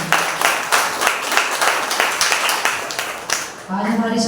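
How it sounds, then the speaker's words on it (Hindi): Worshippers at a Sunday church service clap together in a strong round of applause, with a voice speaking over the tail end. "आइए परमेश्वर के आदर के लिए एक जोरदार ताली बजाते हैं।"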